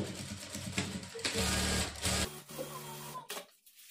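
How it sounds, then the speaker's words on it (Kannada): A sewing machine stitches the lining edge of a blouse in close, quick mechanical bursts, pausing between runs and stopping at the end. "ಉಕ್ಸ್ಪಟ್ಟಿ ಮೇಲೆ ಎಡ್ಜ್ಗೊಂದು ಕಿನಾರಿ ಸ್ಟಿಚ್ ಹಾಕ್ಕೊಳ್ಬೇಕು"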